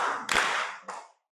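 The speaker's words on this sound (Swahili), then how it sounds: "Tumpigie makofi." Audience applause breaking out briefly, a dense burst of clapping that swells and then stops abruptly after about a second.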